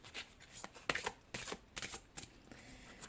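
Oracle de Vinci cards being shuffled for a reading produce close, quiet riffling bursts in quick succession.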